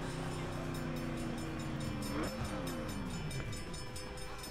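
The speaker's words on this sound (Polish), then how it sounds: "O, będzie pociąg jechał," A train passing in The Crew racing game, a loud rumbling roll with a long sustained horn whose pitch bends down as it goes by, over continuous engine noise.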